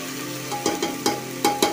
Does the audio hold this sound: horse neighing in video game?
no